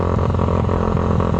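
A Honda Wave 100 motorcycle with a liquid-cooled DOHC engine, built as a sleeper drag bike, revs loud and close, giving a continuous dense roar with a rattling edge and no voices.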